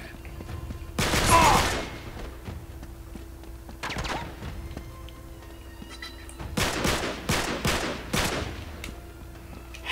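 Enemy gunfire in Uncharted 3 cracks in scattered sharp bursts during a co-op firefight in Syria, with one loud volley early, isolated shots, then a rapid cluster of shots near the end.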